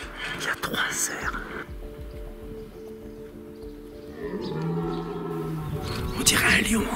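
A deep, drawn-out bellowing roar of a red deer stag in the Argentine mountains, fairly close, with hushed whispering before and after.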